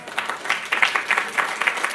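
A small audience at a partner summit clapping, uneven and moderately loud for a couple of seconds.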